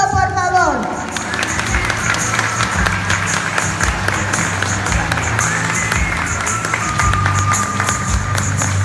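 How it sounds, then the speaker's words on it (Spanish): A crowd at a graduation ceremony breaks into steady applause, a dense, close clatter of many hands that runs throughout over a murmur of voices and chatter. "¡Un aplauso, por favor!"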